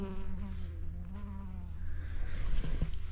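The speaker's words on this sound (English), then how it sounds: "Listen to those bees." A steady low drone of bees buzzing close by among flowers in a midsummer garden, continuous throughout and swelling slightly louder toward the end.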